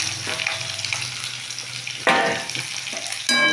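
Cumin seeds and bay leaf hit hot oil with a steady close sizzle, then sharper bursts of spattering crackle flare up twice, loud and near, with no talking.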